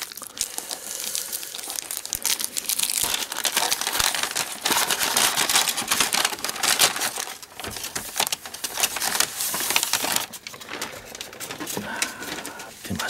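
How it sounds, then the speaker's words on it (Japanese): A boxed Dolphin Whale wristwatch, model GF-8251K-7JR, being unpacked up close, with steady crinkling, rustling and tearing of wrapping and packaging throughout, no voices. "では中身を早速開封していきましょう"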